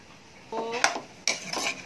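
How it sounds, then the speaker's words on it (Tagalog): A few clinks and scrapes of a utensil against a pot of boiling pork, with a light bubbling, simmering background; two separate bursts of stirring, close by. "Okay natin, imikos-mikos natin. Kasi kumukulo na siya."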